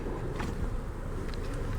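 Honey bees swarming over a hive frame during a split and honey super check, a steady close buzzing drone that holds through the whole stretch with no voices.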